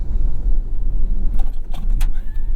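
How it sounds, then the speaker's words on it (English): A 2024 Toyota Tacoma Trailhunter's turbo engine heard through its snorkel while driving: a loud, constant low rumble with a few brief airy whooshing bursts midway. "With the snorkel on the Trailhunter, you do hear the turbo noises in a more unique way."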